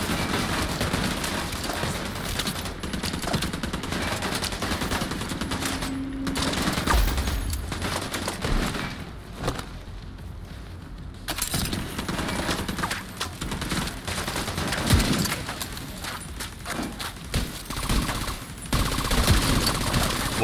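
Dense, continuous gunfire from a firefight in the video game The Division 2, with rapid shots and blasts layered over a loud, busy mix for the whole stretch.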